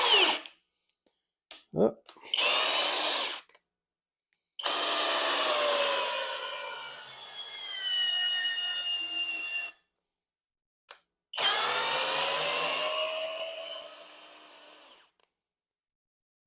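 A Hoto 12V brushless cordless drill spins up in several bursts, whining loudly for a few seconds each time with quiet gaps between, and a brief spoken exclamation.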